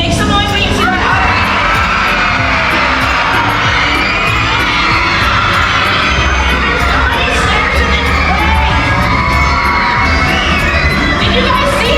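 Crowd of children shouting, screaming and cheering at an otter sighting, a loud, continuous excited din with overlapping high voices throughout.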